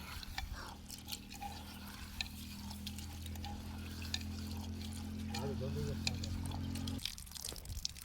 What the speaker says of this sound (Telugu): అది పప్పు కడుగుతానా.